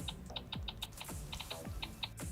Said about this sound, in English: There's also a new keyboard sound here, which they were quite proud of. It's meant to sound like a typewriter.